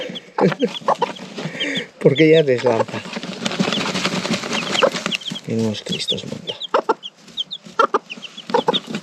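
A hen clucks repeatedly with chicks peeping, under a steady stream of nearby Spanish speech.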